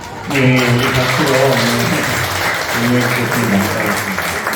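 A church congregation applauds during a Sunday service, a dense, steady patter of clapping with a voice talking over it throughout.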